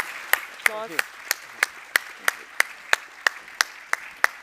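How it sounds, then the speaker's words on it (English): Clapping thanks panelists at a policy discussion on Singapore 2030, sounding as sharp, evenly spaced single claps in a steady rhythm over a quiet background, with a brief voice heard early on. "Please join me in thanking them with a hearty round of applause."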